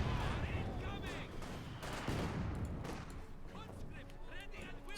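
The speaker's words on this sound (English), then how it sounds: "German mortar fire on the conscripts." Distant battle rumble in Company of Heroes 2 as German mortars pound Soviet conscripts, dense repeated thuds and crackling blasts running throughout beneath a continuous commentator voice.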